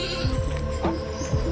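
A goat bleats in a few short, wavering calls close by, loud against a humming background.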